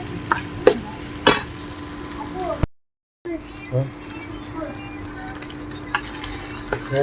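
Capsicum being stirred into a frying Hyderabadi chilli chicken curry: a close sizzle with scraping stirs and a few sharp utensil knocks, a brief break partway, then lighter sizzling and stirring resumes.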